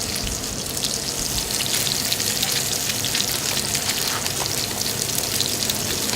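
Salmon fillet searing in a very hot pan in a restaurant kitchen, a loud, dense, continuous sizzle and crackle with no pauses and no talking.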